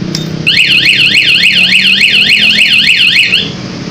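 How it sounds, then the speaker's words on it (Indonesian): A loud E-Lock Stealth electronic motorcycle alarm wails with a rapid rising-and-falling warble for about three seconds, then cuts off. "pencet P dan starter, maka dia akan ada alarm"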